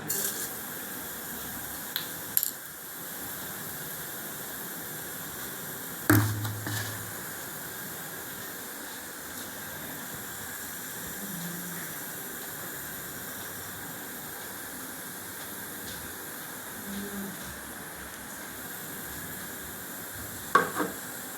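Fennel seeds sizzle in hot ghee or butter in a pan, a soft continuous hiss that runs throughout, broken by a few sharp clicks and taps from a utensil.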